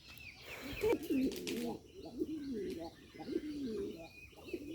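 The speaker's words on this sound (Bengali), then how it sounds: "কবুতরগুলো কি সুন্দরভাবে আদা খাইতেছে আর ডাকতেছে অনেক সুন্দরভাবে ডাকে কবুতর" Bombay pigeons cooing in soft, repeated low calls close by, with a few brief chirps and a wing flutter near the start, steady and moderately quiet throughout.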